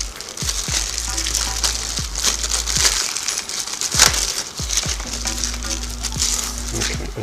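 Plastic packaging being pulled off a Waring Pro JEX328 juice extractor, close-up crinkling and rustling with sharp snaps and crackles in irregular bursts.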